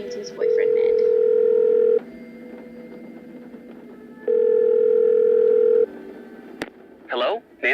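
A cell phone in a Nancy Drew video game gives two long steady dial tone bursts separated by a quieter gap. A few short dialing beeps follow near the end, clear and close with no talk.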